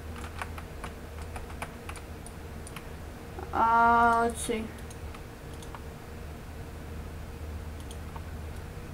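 A computer keyboard clatters in a quick burst of typing lasting about a second, loud and close, while a voice speaks briefly over quiet background noise.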